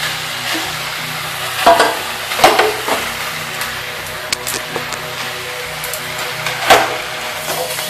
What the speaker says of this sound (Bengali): ভালোভাবে মোচা আলু মশলার সাথে কষিয়ে নিই